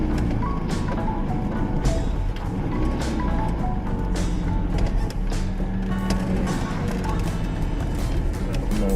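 A Fiat 125p with manual gearbox and no power steering reverses onto a road, its engine droning loudly and steadily with rattles and mechanical clatter throughout.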